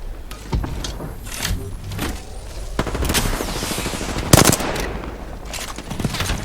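Gunfire in the video game Apex Legends: dense, rapid bursts of automatic weapon fire with sharp cracks, one especially loud shot near the middle, and no talking.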